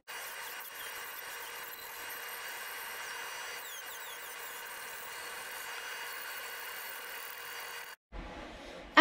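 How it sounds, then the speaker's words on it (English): A Dremel rotary tool fitted with a cut saw bit grinds steadily through a glued-on wood piece in a woodcraft project, a continuous high whine running close and alone for about eight seconds before cutting off abruptly. "as you start cutting away at it with the Dremel"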